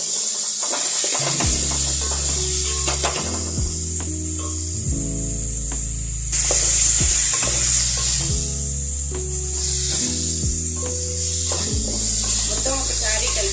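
Tomatoes with salt sizzle and fry in a pan for moong dal khichdi as they are stirred, a constant loud crackle with scraping strokes under steady background music.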